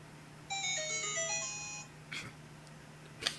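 A phone ringtone plays a short bright melodic tune during a tabletop role-playing session, followed by a couple of faint clicks and taps, nearby with no talking.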